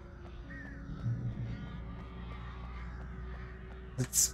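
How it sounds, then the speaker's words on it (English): Crows caw in the video game Alan Wake Remastered. A couple of short, harsh calls come near the end over a quiet, humming ambient background. "The crows, I don't know."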